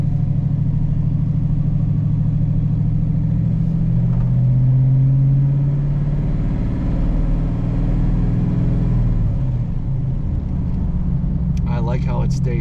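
A 1940 Chevrolet Special Deluxe engine drones loudly up close, its pitch climbing as it accelerates, then easing into a steadier rumble with some faint clatter at the end.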